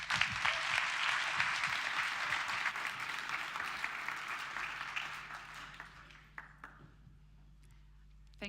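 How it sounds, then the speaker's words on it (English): An audience applauds for a speaker at an art and sculpture event, with dense clapping that gradually thins and fades into a few scattered claps before near quiet. "give Lena a warm applause."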